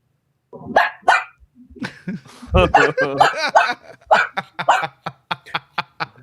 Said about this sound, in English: When I say speak, you have to bark.